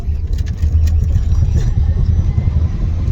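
A Tesla launching down the drag strip at Immokalee Dragway makes a steady, loud low rumble that holds without pause, with faint voices mixed in.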